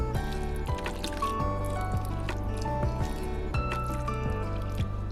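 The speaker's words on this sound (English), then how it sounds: "I'm gonna add 4 cups of water for sure and then see how it looks to me." Four cups of water pour into a pot of chili in a steady stream with wet squishing and dripping splashes throughout, fairly close and with no talking.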